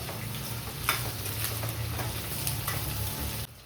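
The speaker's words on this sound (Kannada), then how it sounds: "ಇವಾಗ ನಾವು ಹಾಕಿದ ಎಲ್ಲ ಐಟಮ್ಸ್ನ ಒಂದು 10 ನಿಮಿಷ ಚೆನ್ನಾಗಿ ಫ್ರೈ ಮಾಡ್ಕೊಳ್ಳೋಣ" Garlic, ginger and onion fry in a pan for ghee rice and chicken saaru, giving a steady close sizzle with a few brief stirring scrapes before it cuts off near the end.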